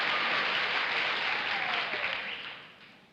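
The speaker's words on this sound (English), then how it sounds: "Who do you think they were applauding?" A 1956 television panel-show studio audience applauds in a loud, dense wash of clapping that holds steady, then fades away toward the end.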